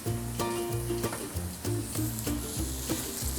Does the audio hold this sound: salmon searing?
yes